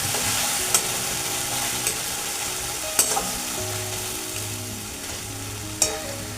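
Ginger goes into onions frying in oil, giving a loud, steady sizzle close by, punctuated by several sharp taps and scrapes of a spoon stirring the pan.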